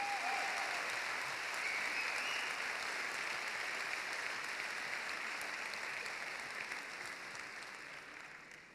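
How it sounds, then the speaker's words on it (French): Audience applause at a graduation ceremony: sustained, dense clapping from a large crowd filling the room steadily, fading slightly toward the end, with no talk over it. "Je vous demande d'applaudir très fort Marion Fournely"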